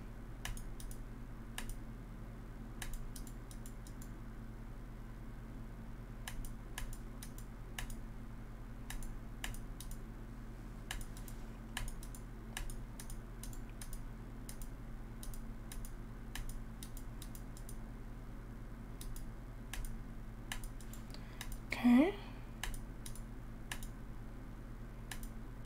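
Sparse, quiet mouse or keyboard clicks tick out at irregular intervals during a computer cube game, over a low steady hum.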